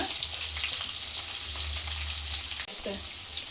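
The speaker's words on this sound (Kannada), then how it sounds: "ಇದೆಲ್ಲ ಈಗ ಬಾಡಿಸ್ಕೊತೀನಿ" Onion, curry leaves and green chilies sauté in hot oil in a pan for radish sambar. A steady, close sizzle runs throughout, with a brief clink of stirring partway through.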